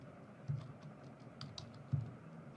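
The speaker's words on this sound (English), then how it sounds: "So I'm typing here first name." Keys tap on a computer keyboard, quiet and sparse, with a few soft clicks and two slightly heavier strokes, close by in a calm room with no voices.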